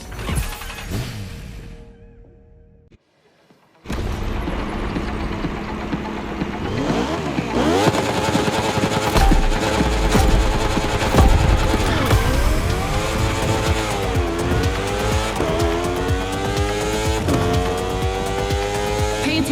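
Racing motorcycle engines in The Crew Motorfest rev and scream through rising and falling gear changes, loud and continuous after a brief silence near the start.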